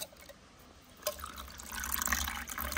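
Cold water is poured into a sweetened homemade drink for children: quiet at first, then a steady splashing pour that grows fuller and louder toward the end.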